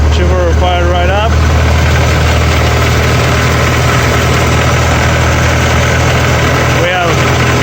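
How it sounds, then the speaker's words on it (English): A Cummins diesel engine on a Vermeer BC1000X wood chipper runs steadily after starting, a loud, continuous mid-pitched rumble with a brief whine early on and another near the end. "Yeah, chipper fired right up."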